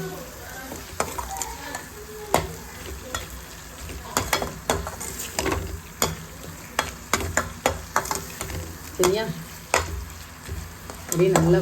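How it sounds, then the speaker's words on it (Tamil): Ground coriander, chili powder and turmeric sauté in a pan for a squid kootu, a close, steady sizzle with frequent spatula scrapes and taps throughout, without voices. "அதுக்கப்புறம் மஞ்சள் தூள் இதை நல்லா வதக்கணும்"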